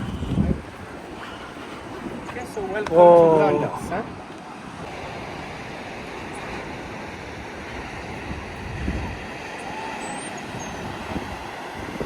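Ocean waves wash steadily onto a Seychelles beach under constant wind noise, with a brief exclaimed voice near the start.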